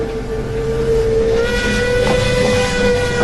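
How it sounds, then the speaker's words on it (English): Steam engine whistle sounding loud and close, a sustained steady tone with hissing steam and train rumble underneath. "The engine whistled again"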